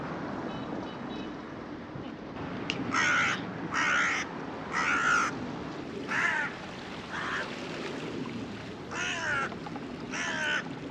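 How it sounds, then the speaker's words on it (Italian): A crow caws in repeated loud bursts of two to four calls, with gulls on Crete nearby, over a steady outdoor background hum. "era un dialogo fra il corvo e i due gabbiani"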